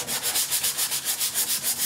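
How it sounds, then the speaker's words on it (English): A sanding block rubbing sandpaper over a wood filler patch on bare pine wood, with loud, close, steady back-and-forth strokes in an even rhythm of about five per second and no voices. "Now I can use this block to sand the patch."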